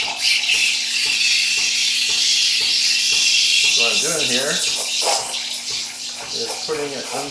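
Espresso machine steam wand frothing milk, its nozzle held just under the surface to swirl the milk, giving a steady close hiss throughout with someone talking over it partway.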